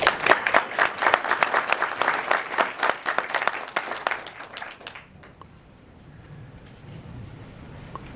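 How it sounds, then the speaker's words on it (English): An audience applauds to welcome a speaker at a STEM award event, a lively burst of many clapping hands that ends abruptly about five seconds in, followed by quiet room tone. "Please welcome with a round of applause"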